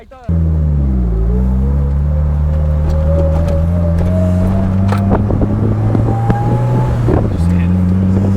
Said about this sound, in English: This car is still capable of revving to 9K at the end of the day.